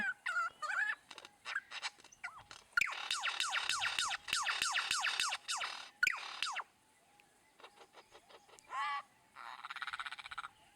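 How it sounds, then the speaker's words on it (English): A wild bird in a Monster Hunter Generations Ultimate game gives repeated rapid gobbling, croaking bursts in a fast rhythmic series, loud and close, then pauses before shorter calls return near the end. "What a wild bird."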